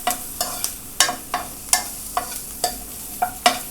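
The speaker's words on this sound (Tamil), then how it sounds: "லைட்டாக வெங்காயம் வதங்கட்டும்." Onions sautéing in a pan for Indian-style masala macaroni pasta: a soft continuous sizzle broken by about nine sharp spatula scrapes and taps against the pan, evenly spaced, close and fairly loud, with no talking.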